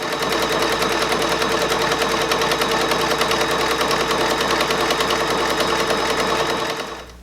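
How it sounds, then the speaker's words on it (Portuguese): A sewing machine stitches steadily around a fabric rectangle for a children's towel bag, a loud, fast, even mechanical whirring chatter that runs continuously and winds down at the end. "E vou passar a mesma costura em volta de todo esse retângulo aqui, que é o meu tecido."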